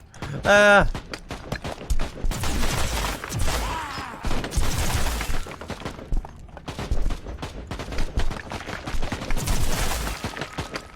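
Gunfire from the video game Warhammer 40,000: Inquisitor - Martyr crackles in dense, rapid bursts and volleys, loud and continuous, with a voice talking over it at times.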